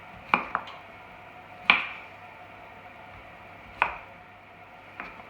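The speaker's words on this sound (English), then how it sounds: "so next we just want to chop our cauliflower up" Cauliflower rough-chopped with a knife on a board: a handful of sharp, close thunks spaced irregularly, each with a brief crunching tail, with nobody speaking.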